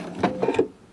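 A sewing machine set up for quilting whirs briefly as the needle lowers and rises, a short mechanical hum with a couple of soft clicks, close and fairly quiet.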